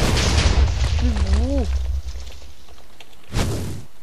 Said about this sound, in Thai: แล้วก็ระเบิด